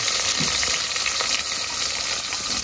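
Loud, continuous sizzling of onion and lemongrass frying in a hot pan, close up, with faint stirring.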